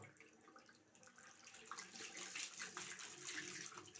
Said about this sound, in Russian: Я руки мою с мылом